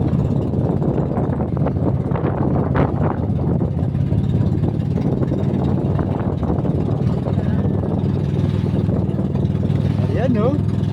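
An outrigger boat's motor drones steadily at sea on the way to Suguicay Island in Bulalacao, Oriental Mindoro, a loud continuous low rumble with wind and water noise, and a voice briefly audible underneath.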